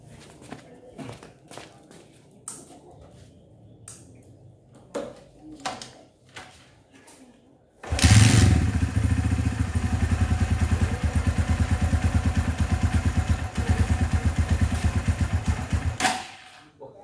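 A 2019 Viar Vintech 200 motorcycle engine starts up after quiet shuffling and clatter, then runs loud and steady with a fast, even putter for several seconds before cutting off.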